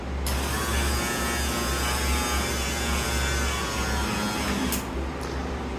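The power antenna mast on a 1957 Cadillac extends, driven by its electric motor with a steady, close mechanical whir and hum that holds at an even level throughout, with no voices.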